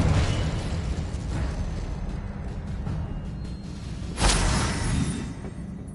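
A Confringo fire spell explodes in Hogwarts Legacy, a sharp loud burst near the end rising out of a steady low rumble of game ambience, followed by a fading crackling tail.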